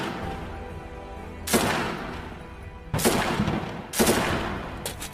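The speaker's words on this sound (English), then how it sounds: "The fighters can be seen firing missiles and machine guns at their targets" Combat gunfire as fighters fire machine guns and missiles at barracks: three sharp loud bursts of shots and blasts, each hitting hard and trailing off, separated by steadier rumbling background noise.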